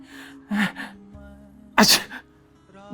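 A sneeze sound effect with two sharp bursts of breathy sneezing a little over a second apart, separated by a quiet tonal hum, loud and close.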